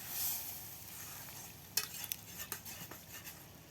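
In a village kitchen, ridge gourd, potatoes, spices and dried shrimp fry quietly in a pan, with faint sizzling and a few light scrapes and clinks of a stirring utensil.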